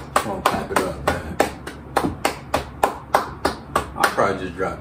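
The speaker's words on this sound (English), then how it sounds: "Come on, clap it up, man." Hand clapping in a steady beat-making session, a dozen or so sharp, evenly spaced claps in a regular rhythm, close and crisp, with faint talk in between.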